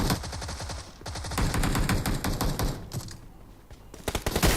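Automatic AK rifle fire in a shooter video game: rapid, loud bursts of evenly spaced shots, one long stream, a brief pause, then more bursts and a few scattered single shots at the end.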